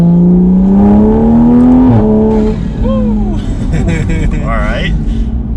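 A tuned Toyota A90 Supra engine pulls hard, its loud droning note climbing steadily before a brief break, like a gear change, then roaring on. Someone talks over the engine noise.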